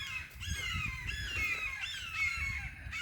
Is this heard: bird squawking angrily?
yes